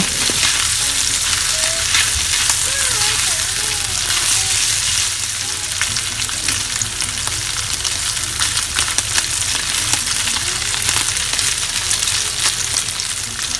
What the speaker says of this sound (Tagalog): prito lang natin ito mabuti